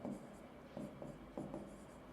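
Chalk or marker writing a ratio on a board, several short scratchy strokes in quick bursts, close and faint over a background hum.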